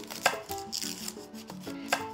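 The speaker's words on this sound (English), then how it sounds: "And while I'm chopping this onion," Knife chopping an onion on a cutting board during home cooking, a few sharp irregular chops close by with soft kitchen clatter, no talking.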